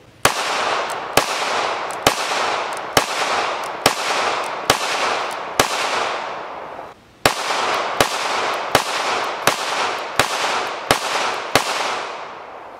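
Pistol shots from compact Ruger LCP and LCP Max .380 ACP handguns loaded with Federal HST ammunition, fired in a steady series of about fifteen loud, sharp cracks with brief ringing decays between them and one short pause midway.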